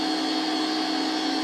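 A magnetic generator rotor spins at very high speed and produces a steady, loud, close whine with a constant tone and no change in level, with no talk over it.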